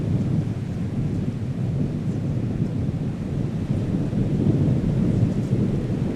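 A steady, loud roar of wind and thunderstorm in the Bolivian mountains, rumbling low and continuous throughout with no voices.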